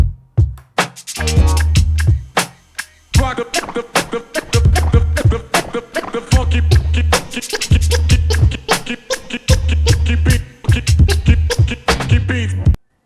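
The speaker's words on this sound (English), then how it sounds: "1-click based vocal scratching" Rapid, choppy turntable scratches of a vocal snippet, cut in quick bursts over a steady thumping beat, loud and up close.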